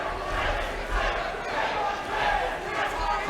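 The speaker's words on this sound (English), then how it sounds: "the crowd cheering on Jake" At a Battle Arena 75 MMA bout between Jake Dygas and Mikey Tranter, an arena crowd roars and cheers in a steady, loud, close wash that rises and falls slightly without a break.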